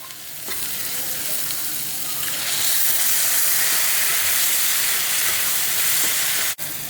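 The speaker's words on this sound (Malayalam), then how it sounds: "മസാലയൊക്കെ തിളച്ച് വരുന്നുണ്ട്." Crab masala bubbling and sizzling steadily in a pan after water is added, loud and close, a continuous frying hiss that swells slightly midway, with a sharp click near the end.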